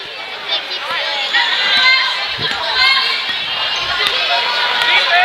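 Spectators fill a gym at a high school girls basketball game between Okeene and Watonga, a steady murmur of crowd chatter with sneakers squeaking on the court and a few louder swells.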